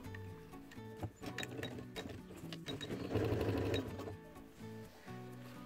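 Sewing machine stitching a bias-bound edge on a fabric organizer with clear pockets, a shim placed under the presser foot to climb a step; steady rapid mechanical chatter with brief pauses, fairly quiet and close, no talk.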